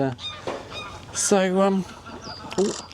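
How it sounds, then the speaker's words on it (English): Greylag geese honk loudly overhead in flight, with a few harsh nasal calls mixed in with someone talking outdoors. "A grey-lag goose, noisy buggers, absolutely incredible."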